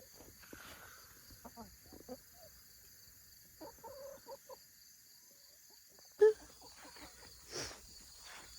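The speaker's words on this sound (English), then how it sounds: "So yeah, chickens are doing good." Farm chickens clucking in short scattered bursts, fairly close, against a quiet outdoor background with insect chirps, plus one sharper louder call near the end.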